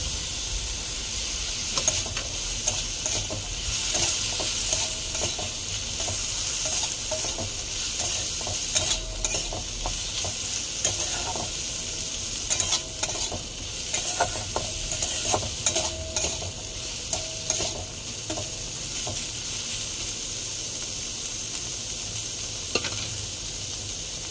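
Onions fry in a pan for a Bengali pumpkin-peel chorchori, giving a continuous loud hissing sizzle with occasional scrapes of stirring, steady throughout and without talk.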